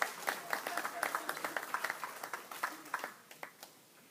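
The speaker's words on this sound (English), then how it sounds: "Let's give Lance a round of applause." Audience claps for a banjo player at a banjo rally. The steady, moderate applause fades over a few seconds, and voices talk over it.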